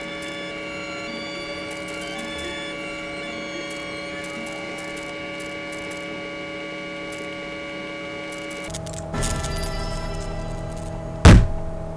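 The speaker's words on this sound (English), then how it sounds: "That was the sound of my hand hitting the table." A hand smacks down on a table, a single loud thud near the end that stands out over a steady electrical hum and faint game sounds.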